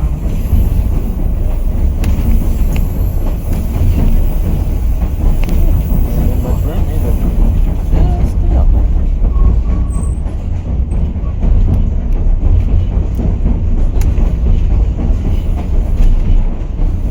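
The White Pass railway train near Skagway, Alaska, climbs a mountain route with a loud, continuous rumble and rhythmic rattling of cars on the tracks, with occasional faint squeals heard close up throughout.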